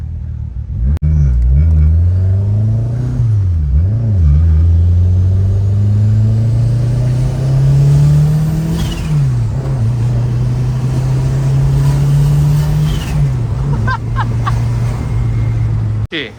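Tuned Proton Waja Mivec turbo car engine, about 400 hp, revving hard and accelerating through several rising pulls and gear shifts, loud and close, with brief speech partly over it.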